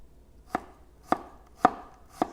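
Four sharp knife chops on garlic against a cutting board, evenly spaced about half a second apart, close and crisp with quiet pauses between strikes.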